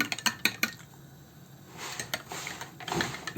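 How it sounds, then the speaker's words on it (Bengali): Spoon clinking against a bowl as milk is stirred for tea, a few sharp taps at the start and more scattered clinks near the end, with a quieter stretch of soft swirling between. "দুধটাকে একটু গুলিয়ে নেব"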